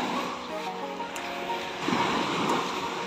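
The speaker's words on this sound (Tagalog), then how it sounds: "ayan po yung dagat dito sa amin sa Lubo, Batangas" Sea waves wash onto a fine-sand, non-white beach at Lobo, Batangas, a steady broadband surf that swells louder in the second half, heard up close with no talk.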